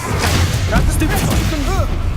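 Spell-casting effects from the Hogwarts Legacy video game burst out as loud whooshes, thumps and crackling blasts in quick succession, layered with shouted incantations.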